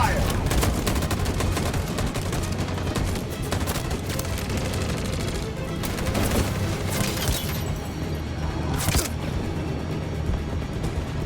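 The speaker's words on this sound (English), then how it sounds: "That machine gun is taking down everything that moves!" Machine gun fire in Detroit: Become Human during a battle scene, long loud bursts of rapid automatic shots with booming impacts and explosions, shouted voices breaking in over the gunfire.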